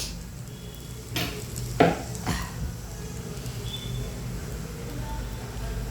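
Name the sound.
dhapate flatbread roasting with oil on a tawa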